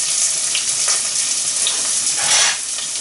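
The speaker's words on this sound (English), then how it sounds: "I'm just gonna stir it around for about a couple of minutes, 2 or 3 minutes, just to get it nice and soft" Chopped celery and onion being stirred in a pan as the base for salmon risotto: a loud, continuous close-up sizzle and hiss with soft scraping of a spoon, and no voices.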